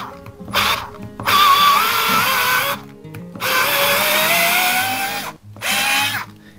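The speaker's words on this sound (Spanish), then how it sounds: "Vamos a ver si con este puedo sacar el tornillo que metí con el otro." A Bosch Go 3 cordless screwdriver works a screw back out in several loud, close whirring bursts separated by short pauses, with the motor pitch climbing within each burst.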